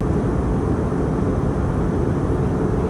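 Steady broadband roar of an Iberia Airbus A320neo cabin in flight between Madrid and London Heathrow, a constant engine and airflow drone with a heavy low end, loud and unbroken throughout.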